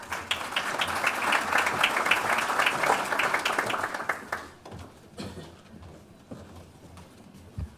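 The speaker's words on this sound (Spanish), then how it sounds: "La recibimos con un fuerte aplauso." An audience bursts into loud, dense applause welcoming a human rights official to a public event. The clapping fades after about four seconds into a few scattered claps and room noise.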